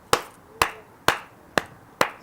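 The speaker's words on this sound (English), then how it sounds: "just so we can sync the audio up, can I just get you to clap?" Sharp single hand claps ring out one at a time, five evenly spaced, loud and close, each with a short decay into a quiet room.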